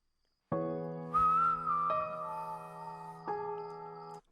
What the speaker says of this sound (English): And he's following the whistling.